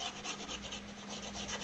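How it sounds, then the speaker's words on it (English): Steady rubbing of sandpaper against an armor piece, pre-sanding the surface before gluing, a continuous close scratchy hiss with slight back-and-forth pulsing and no voices. "pre-sanding to make sure the glue is going to bond."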